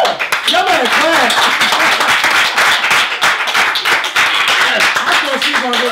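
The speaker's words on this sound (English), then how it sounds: "Y'all better clap." An audience claps in a lively studio setting, brisk clustered hand claps mixed with whoops and voices talking and calling out over them throughout.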